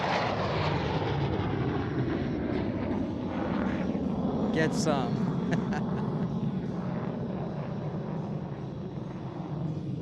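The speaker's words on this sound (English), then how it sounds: "Gotta love a sneak pass, especially from a MiG-15." A MiG-15 jet roars past low overhead at the Sun 'n Fun airshow, a loud broad rumble that swells and slowly fades, with a brief shout from someone nearby.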